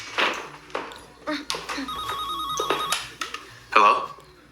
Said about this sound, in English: Y'all got a house phone?